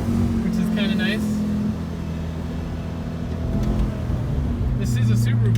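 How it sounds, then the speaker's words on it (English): A 2016 Subaru Impreza 2.0i Limited with about 60k miles downshifting on the road: cabin engine drone shifts pitch mid-way, then builds again, with a person talking over it. "It's downshift for you. Kicks you back in your seat"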